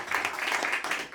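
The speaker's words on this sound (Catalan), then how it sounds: "Per tant, un aplaudiment per en Joan." Applause for Joan after a talk before a small concert session, a short burst of clapping from a modest audience, dense and lively, fading slightly toward the end.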